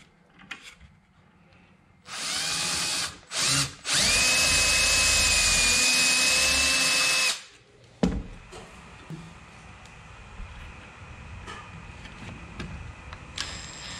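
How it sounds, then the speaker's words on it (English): A power drill cuts a pilot hole in wood, two short bursts of high whine followed by a longer steady run of about three seconds, then stopping into quiet handling noises and light knocks. "Drilling a pilot hole."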